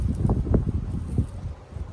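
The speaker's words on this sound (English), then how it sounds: "It's windy." Steady low wind rumble buffets the microphone in gusts, rising and falling with no voices, on a disc golf course.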